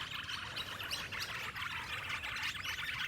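Birds chirp continuously outdoors in a dense, steady chorus of overlapping tweets, fairly faint overall with no talking.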